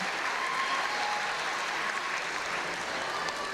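A crowd at the British Lead Championships climbing finals breaks into loud, sustained applause and cheering for the finalists, a dense roar of clapping that holds steady throughout.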